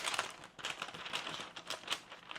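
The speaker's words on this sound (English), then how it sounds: "So you're going to fold it." A paper sewing pattern for a bodice is folded, giving faint, soft crinkling and light rustles scattered through a short quiet stretch.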